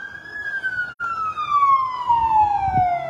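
An ambulance siren wails in a single long, slowly falling tone with a brief dropout, heard at moderate distance over faint street noise and low traffic rumble.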